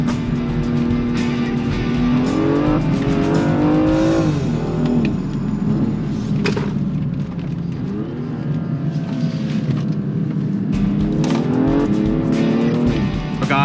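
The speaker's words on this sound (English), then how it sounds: "The car is fighting for grip." Toyota Supra cornering hard with tyres squealing for grip, a loud close engine revving and rising in pitch through the bend over sustained tyre noise.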